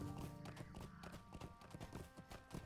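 Horse hooves clip-clop steadily at a riding pace in the Lord of the Rings Online video game, a quiet, rhythmic run of hoof strikes heard alone.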